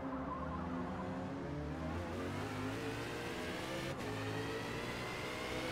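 A race car engine in Forza Motorsport at the Nurburgring, accelerating on cold tires, holds a sustained steady drone with layered engine harmonics, fairly quiet and continuous with no voices.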